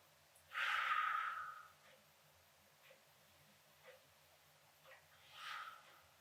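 A child takes long, deep breaths in a seated yoga pose, with one loud airy exhale followed by fainter breaths and another soft breath near the end, close and quiet.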